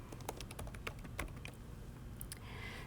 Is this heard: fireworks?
no